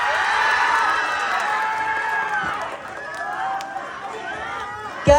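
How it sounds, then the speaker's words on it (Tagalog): An audience at a pageant cheers and claps for a contestant, loud mixed shouting and applause that gradually thins out, with a sharp bang near the end. "Bakit hindi niyo po kang subukang hiyawan at palakpakan si Binibining"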